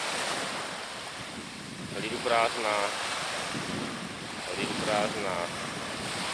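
Sea waves washing onto a beach in Papua, a steady broad surf wash with wind buffeting the microphone, while a voice speaks briefly over it.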